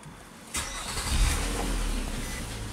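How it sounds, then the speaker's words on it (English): A Nissan Maxima engine cranks and catches with a sharp onset, then settles into a steady low rumble close by, with no talking. "Start the car up."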